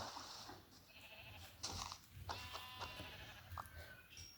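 Minecraft sheep bleat a few times, faint and intermittent, with short wavering calls over a quiet background.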